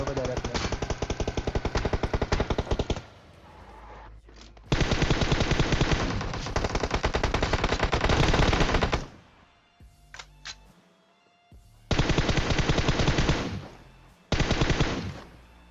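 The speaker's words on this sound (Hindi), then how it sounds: "तो मैं क्या करता हूँ, गोली गोली चलाता हूँ, एक एक गोली लगती है मेरी उसको।" Rapid automatic gunfire from the video game PUBG comes in long loud bursts, broken by short pauses and a few single shots, with a voice talking at times.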